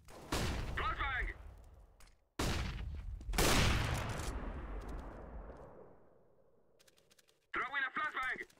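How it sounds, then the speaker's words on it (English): A flashbang grenade going off in a video game, heard as a loud close bang that decays into a long ringing tail, with brief gunfire and radio-style voices around it. "I am throwing a flashbang"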